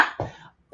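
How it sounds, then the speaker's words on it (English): A single short cough bursts out close by during an author interview, followed by a fainter catch of breath in a quiet room. "I'll talk a little bit while you cough."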